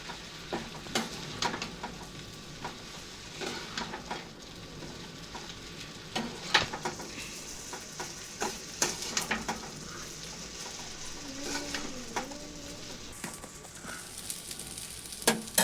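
Leftover cooked rice frying in a pan, stirred with a spoon that gives soft scraping taps and clinks over a faint steady sizzle, quiet and close, with a short patch of distant voices.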